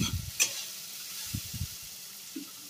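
Food frying in a pan with cumin, a soft steady sizzle under a few light scrapes and knocks of a spoon being stirred, close and fairly quiet.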